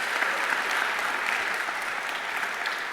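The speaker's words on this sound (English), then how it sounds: "Can we get a quick round of applause for everyone in the Seattle Indies group who made this event possible?" A conference audience at a Seattle indie game developers' event breaks into steady, dense applause, loud and continuous for a few seconds with no voices on top.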